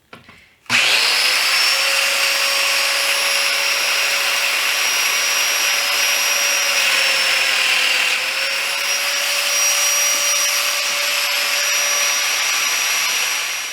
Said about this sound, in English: I'm going to use a number 6 cutter, and I'm going to start cutting for my dominoes on all my pieces